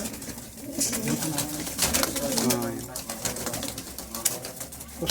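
Kalshira pigeons cooing in a loft, low throaty coos rising and falling at close range, mixed with rustling and clicks while someone talks over them.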